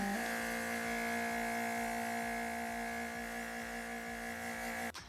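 A TEMPTU airbrush blowing air to dry freshly applied eyeshadow: a steady, close motor-like hum with airy hiss holds for about five seconds, then cuts off abruptly near the end.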